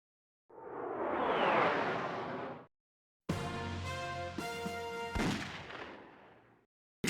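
Retro PS1 video game gunfire: a loud sustained burst of shots with a whooshing, crackly texture, then after a short gap a dense tonal run of electronic firing effects that trails off near the end.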